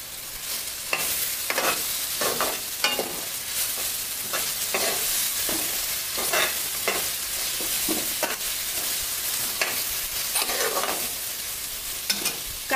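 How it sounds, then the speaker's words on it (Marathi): Onion sizzles in oil in a pan for a Maharashtrian horse gram dish, with steady frying hiss and repeated scraping stirs at an irregular pace, close and alone without talk. "कांदा आपण थोडा गुलाबी होईपर्यंत चांगला परतून घेणार आहोत."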